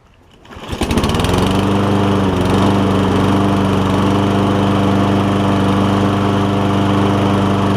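A Toro Recycler lawn mower with a Kohler engine starts after a brief quiet moment, then runs steadily and loudly at a constant drone, close by, for the rest of the time.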